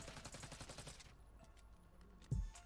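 A rapid burst of uncontrolled automatic gunfire in Call of Duty Black Ops 6 rattles for about a second, then stops, followed by a faint pause and a single loud thump.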